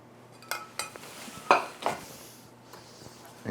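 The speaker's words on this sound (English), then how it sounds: "And we mix all that very well." A utensil clinks and scrapes against a bowl in a few sharp, close taps while milk, butter and vanilla are stirred into cannelé de Bordeaux batter, followed by quieter rustling.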